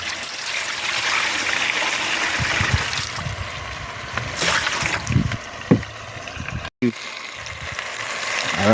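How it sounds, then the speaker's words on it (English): Water poured into a cooking pan while making Jamaican mango chicken foot, a trickling, splashing pour that runs for several seconds, with some clatter and bumps from the pan. "So I'm going to add some water to my pan"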